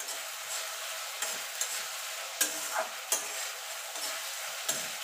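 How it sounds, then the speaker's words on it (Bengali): Ginger and green chilli frying with onions in a pan, a soft steady sizzle broken by several sharp scrapes and taps of a spoon stirring, close and without talk. "এবার দিয়ে দেবো আদা কাঁচা লঙ্কাটা, দিয়ে এটাকেও একটু কষিয়ে নেব।"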